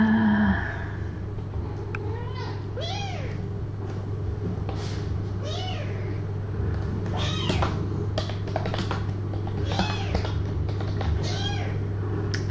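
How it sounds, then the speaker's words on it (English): Tiny kittens meow repeatedly in short, thin, high cries spread across the clip, over a steady low hum in an indoor room. "6 glorious minutes of kittens."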